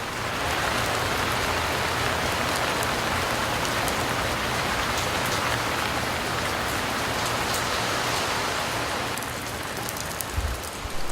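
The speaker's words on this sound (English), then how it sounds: "a great deal of rain can be dropped in a very short space of time" Heavy rain pours down in a steady, loud, dense hiss that holds for the whole stretch, a brief storm dumping a great deal of water in a short time.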